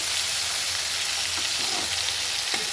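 Eggplant slices fry in hot oil alongside hilsa fish, giving a dense, even sizzle and hiss close by with faint utensil scrapes and a low hum underneath, without speech.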